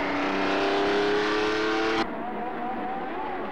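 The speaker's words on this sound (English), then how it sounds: "This is a Formula 2 start." Formula 2 race cars roar together at a start, a dense loud engine drone that cuts abruptly to a thinner, more distant revving whine.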